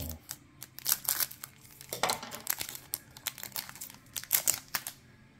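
Foil baseball card pack wrappers from 2023 Bowman Platinum being trimmed open, giving a steady run of crinkling and snipping close up, with irregular sharp crackles and no talk.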